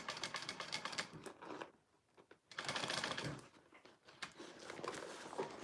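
Sewing machine stitching, quick rattling runs of the needle in close bursts separated by brief pauses, fairly faint overall.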